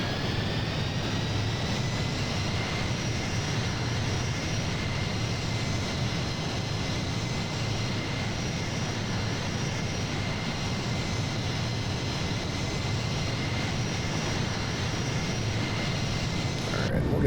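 Jet engines of a C-17 roar steadily in a Microsoft Flight Simulator 2020 flight, a loud, continuous broadband rumble with a faint high whine that holds for the whole stretch.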